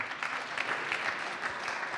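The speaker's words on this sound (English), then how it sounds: "Round of applause for everybody in the room" Steady, dense applause from a room full of people at a 1 Million Cups startup gathering in Kansas City, an even crackle of many hands clapping throughout.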